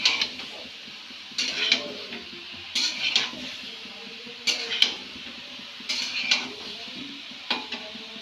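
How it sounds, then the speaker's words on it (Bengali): Ridge gourd and spices being stirred in a pot, with repeated bursts of spoon scraping and clinking against metal, fairly close, separated by quiet pauses and a faint sizzle underneath. "এবং এটাকে নাড়তে থাকবো যাতে ঝিঙের সঙ্গে মশলাগুলো ভালোভাবে ম্যারিনেট হয়ে যায়।"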